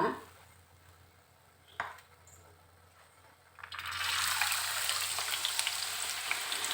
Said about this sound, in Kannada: ಈ ಕಡಲೆಬೇಳೆ ಹಿಚ್ಕಿನ ಬೇಳೆ ತೇವ ಇರುತ್ತಲ್ವ, ಅದು ಸ್ವಲ್ಪ ಹೊತ್ತು ಹಿಡಿಸತ್ತೆ ಫ್ರೈ ಆಗೋಕ್ಕೆ